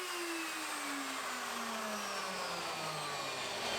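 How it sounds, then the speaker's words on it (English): A wood router that has just been switched off keeps spinning down, its whine sliding steadily lower in pitch over several seconds, faint and alone. "this router takes ages to spin down when you turn it off."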